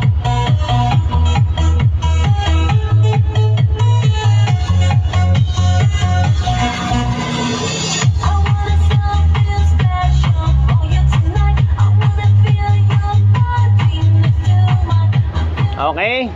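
Disco music played loud through a CA38 amplifier driving four bass speakers, with a steady pounding beat and heavy bass running throughout, a brief thinner break near the middle, no talking.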